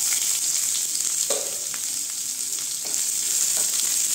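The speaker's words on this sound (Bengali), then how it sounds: "পেঁয়াজগুলো আমি একটু লাল করে ভেজে নিব" Onions fry in a pan with cumin, browning in a dense, continuous sizzle and hiss, with a few soft scraping stirs and no talking.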